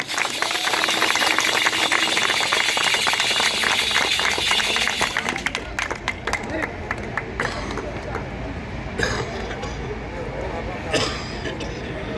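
Audience at a Holi song award function breaks into vigorous clapping, loud and dense at first, then thinning into scattered claps and crowd murmur over several seconds.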